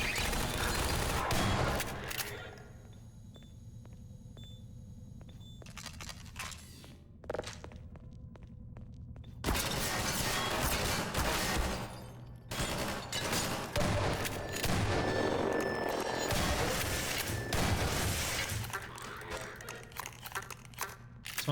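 Half-Life 2 video game gunfire: bursts of rapid shots and heavy bangs in clustered volleys, separated by quieter gaps with footsteps and rustling, loud and close throughout.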